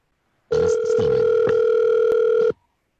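Ringback tone on an outgoing telephone call: a single loud, steady electronic ring lasting about two seconds, heard close and alone, then cutting off into silence.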